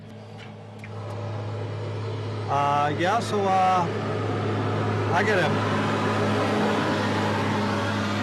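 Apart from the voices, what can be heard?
passing tractor outside a phone booth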